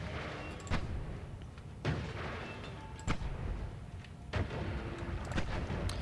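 Landmine blasts in the video game Noita: several dull, booming explosions at irregular intervals, each a short broadband burst over a steady rumbling background, with no talking.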